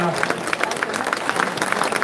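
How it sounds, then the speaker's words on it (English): Studio audience applauding a contestant arriving for a new season of a live business pitch show, a steady wash of clapping with a voice talking over it. "A round of applause, Matthew"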